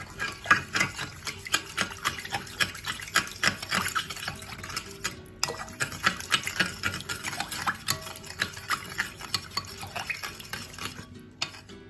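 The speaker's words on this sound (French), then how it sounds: "On mélange bien." A spoon stirs a cornstarch and liquid sauce mixture in a bowl for a sweet and sour lemon chicken, rapid rhythmic clinking and scraping that continues close and clear with no talking.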